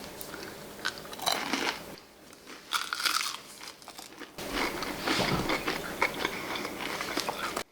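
Close, crisp crunching bites into air-fried tortellini, a few loud bursts of crackle separated by brief pauses and chewing, with no talking.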